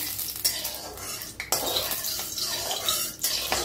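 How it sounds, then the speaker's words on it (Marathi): Okra being roasted in a little hot oil in a kadhai, with uneven clatters and scrapes of a utensil stirring against the metal over a soft sizzle, close and intermittent. "पहिला आपण भेंडी भाजून घेऊया"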